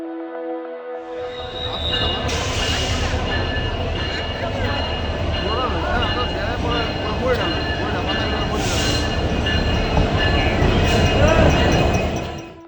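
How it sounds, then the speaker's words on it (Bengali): A train rumbles loudly at Cox's Bazar railway station, wheels rolling and clattering with occasional squeals and hissing bursts, while people talk faintly in the background. "স্ক্রিনে এখন আপনারা দেখতে পাচ্ছেন কক্সবাজার স্টেশন।"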